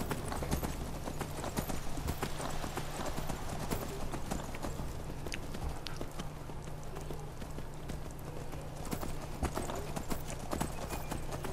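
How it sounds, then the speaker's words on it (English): Horse hooves clip-clop in a steady, rapid rhythm as the horse is ridden in Skyrim Special Edition, loud and continuous over a low ambient rumble, with no talking. "Is that a horse?"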